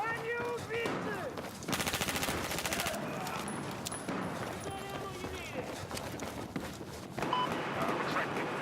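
Gunfire in a pistol-only video game match, rapid bursts of shots over a busy backdrop of game noise and chatter, with a voice speaking through much of it.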